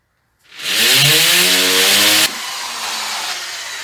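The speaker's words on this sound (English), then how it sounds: "Make sure your drill is on hammer mode so that it's easy to drill into the wall" A hammer drill starts up and bores into a wall to hang a picture ledge, a loud harsh grinding whir that rises in pitch as it spins up, then drops to a steadier, slightly quieter buzz.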